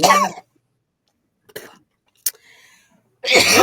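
Several sharp coughs spaced apart by short silences, close to the microphone, with a heavier burst of coughing at the end.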